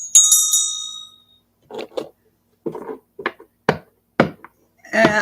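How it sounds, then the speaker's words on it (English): A bright bell rings once at the start and fades away, followed by several sharp taps and knocks close to the microphone. "Oh, the bell, yes."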